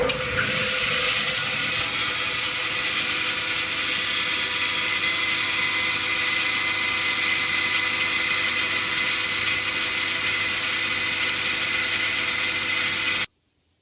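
A grinder finishes a small nib on a lathe centre height tool, giving a continuous loud hissing grind that holds steady for over ten seconds and then stops abruptly.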